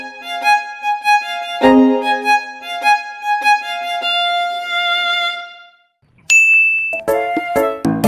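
A bright notification bell rings out in a sequence of clear, resonant chimes with long ringing tails, followed by a sharp high ding and further tones near the end, loud and with no speech.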